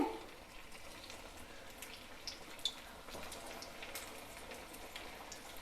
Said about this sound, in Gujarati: આપણે આને તેલમાં તળી લેવાનું છે